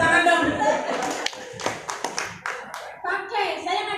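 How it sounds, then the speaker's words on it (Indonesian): Scattered hand clapping from a small audience at a business seminar in Tulungagung, Indonesia, with a few sharp claps rising over a speaker's ongoing voice before talk takes over again. "tepuk tangan dong"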